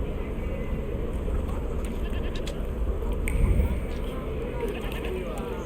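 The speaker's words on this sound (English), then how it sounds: "See, there's goats." Goats bleat in the video game The Thaumaturge, faint calls scattered over a low, steady ambient rumble of the game's background.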